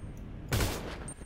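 A single loud gunshot burst rings out in a GTA 5 roleplay game, a sharp broadband crack followed by a short decaying tail, with no talking over it.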